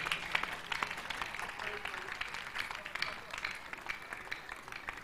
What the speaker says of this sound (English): Clap for Jesus, clap for Jesus, clap for Jesus.